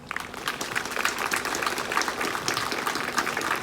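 An audience at an elementary school ribbon cutting ceremony for a restoration project claps steadily, giving a dense, even patter of many hands at moderate loudness with no talking.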